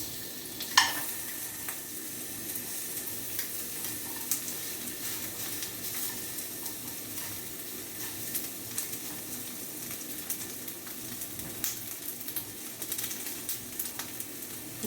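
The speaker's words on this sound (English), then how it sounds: "And we just want to char the vegetables here." Onions and vegetables for vegan japchae charring and being stirred in a pan, a continuous moderate sizzle broken by occasional sharper scrapes and clicks of the utensil, with no talk.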